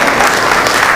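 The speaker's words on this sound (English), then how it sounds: "let's give her a nice round of applause" Audience applause at a community gathering, a short dense burst of many hands clapping at steady loudness throughout.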